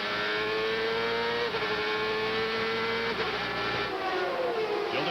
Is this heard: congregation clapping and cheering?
no